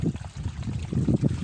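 Natural water trickles and splashes over rocks on a hill trek, a close, burbling flow with uneven gurgles, steady throughout.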